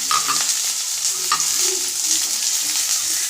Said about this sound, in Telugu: కడాయి పెట్టేసి ఆయిల్ వేసేసాను. తర్వాత ఆనియన్, పచ్చిమిర్చి, క్యారెట్ అండి అన్ని కలిపి పోపులో చేసేస్తాను.